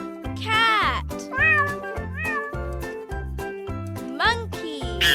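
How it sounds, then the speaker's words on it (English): A domestic cat meows repeatedly in short, clear cries over a steady rhythmic musical backing, with several distinct meows spaced across the stretch. "Cat."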